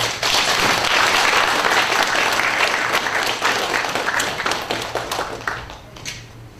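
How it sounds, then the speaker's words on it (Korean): A church congregation in Masan welcomes an elderly retired pastor to the pulpit with loud, dense applause. The clapping comes at full strength from the start and gradually thins out toward the end. "우리 강단에 모실 때 큰 박수로 환영해 주시기 바랍니다."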